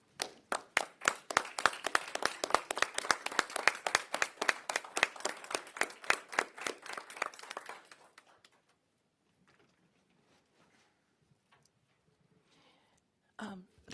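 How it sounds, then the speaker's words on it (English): Kansas State Board of Education members stand and applaud at a board meeting: a small group's crisp claps, close and steady, for about eight seconds before fading into near silence, with a single thump at the end. "the board stand and give Janet Waugh that final applause"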